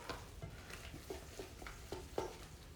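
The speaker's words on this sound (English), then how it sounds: "you stir non-stop, non-stop, non-stop, non-stop" Choux pastry dough is stirred constantly in a pan, producing faint, soft scraping and dull knocks in an irregular rhythm, with no voices.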